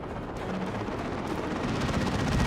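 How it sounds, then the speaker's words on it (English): An assault cannon fires nonstop in the Dawn of War 2 strategy game, a loud, dense rattling roar that holds steady and builds slightly over the whole stretch. "Let's get away from a really loud assault cannon"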